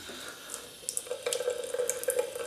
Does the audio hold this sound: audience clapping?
no